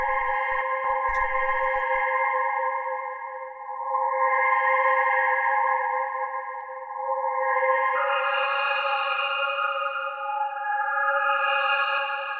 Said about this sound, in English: The second pad sounds like this.